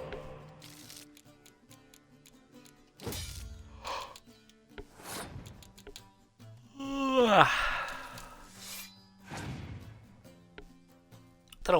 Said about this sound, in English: Don't know why I'm yawning so much.